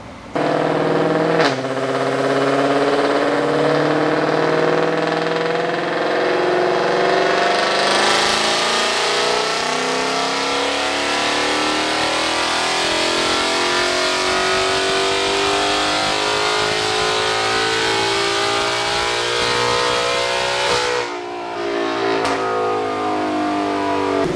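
A 2020 Ford Mustang GT500 with a Corsa exhaust roars steadily on a dyno as the engine revs up and holds high, loud and close, before easing off and climbing again near the end.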